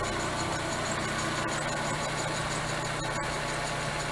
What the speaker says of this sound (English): But you can see how smooth she's idling now.